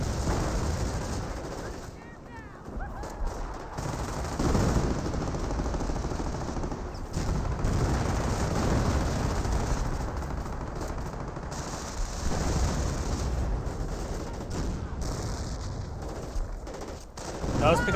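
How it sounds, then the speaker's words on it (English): Continuous battlefield gunfire from a Company of Heroes match, with a .30 cal machine gun suppressing German Grenadiers amid dense volleys, bursts and occasional heavier blasts, loud and sustained throughout without pause. "Get a 30 cal firing away, suppressing down this regular Grenadier."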